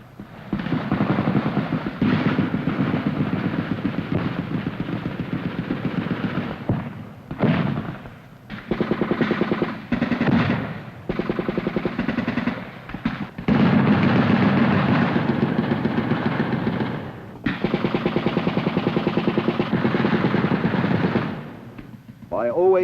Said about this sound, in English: During the night which followed, these units were hit by the Viet Cong with mortars and rifle grenades. Our return fire continues well into daylight.